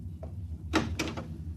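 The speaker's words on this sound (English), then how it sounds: "Open the door." A door is opened in a radio drama scene: a faint click, then a sharper clunk and a brief rattle of the latch, quiet against a low background hum, with no one speaking over it.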